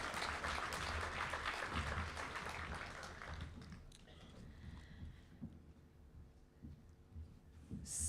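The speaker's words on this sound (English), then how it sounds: "A round of applause for everyone, please." An audience at a schools cattle competition applauds the winners in a dense burst of clapping that fades after a few seconds, leaving a low murmur of the venue.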